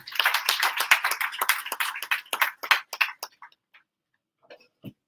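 A crowd applauding at a training and placement officers' consortium event, a dense burst of clapping that thins out and stops after about three seconds, followed by a few scattered faint sounds.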